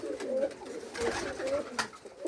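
Loft pigeons from a long-kept bloodline, including a blue-tailed bird, give repeated soft throaty coos in a steady rising-and-falling rhythm, close by, over a light hiss of ambient noise.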